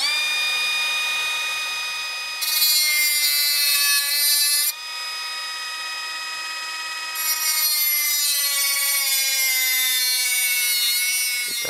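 A die grinder cuts a notch in a BMW E36 M3 suspension part, giving a loud, steady high-pitched whine that grows harsher in two longer bursts as the bit bites into the metal.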